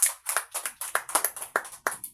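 A church congregation claps during a Sunday worship celebration, a quick run of sharp, uneven hand claps of moderate loudness with no voices over them.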